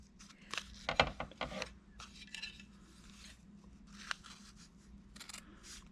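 Paper is torn back along a sewn seam in paper piecing, heard as several short, close ripping and crinkling bursts in quick succession with quieter handling between.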